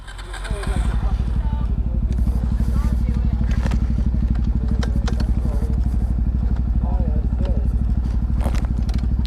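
A dirt bike engine running after a kickstart, a steady loud close rattling idle with a fast even pulse, while people talk over it.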